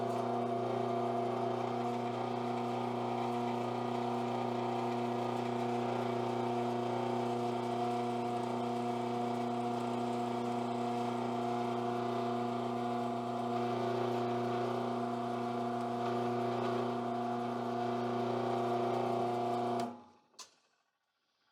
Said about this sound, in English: These little Forstner bits sure get clogged up pretty easily.